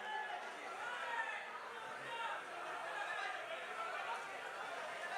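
A large crowd at a film pre-release event shouts and cheers with joy, a dense, steady roar of voices and chatter that holds without a break throughout.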